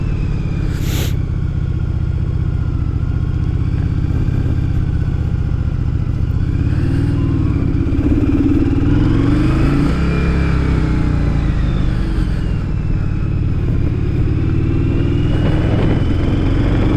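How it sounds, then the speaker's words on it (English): A 1982 Yamaha Virago motorcycle engine rumbles steadily while riding through a cul-de-sac, with mid-range revving swells around the middle and a brief sharp clatter near the start, no talking. "It's got a cool sound of the engine too."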